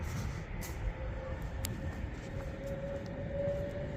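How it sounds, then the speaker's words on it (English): A Class 390 Pendolino passes through Rugby on the West Coast Main Line as a steady, loud, broadband roar with a low rumble that holds throughout, with no talk. "Another Pendolino."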